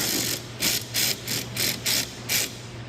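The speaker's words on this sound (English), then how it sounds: "grab a 8mm socket. We're going to just put it right back into that OEM mounting location." A ratchet with an 8mm socket driving a splash guard bolt on a 2019 Dodge Ram 1500, giving a series of short clicking bursts in a steady rhythm, close and clear.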